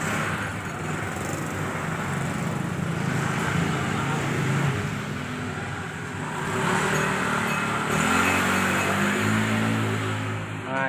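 A Honda Vario 125 scooter on a test drive hums along and then revs up, its engine note rising and falling over road noise.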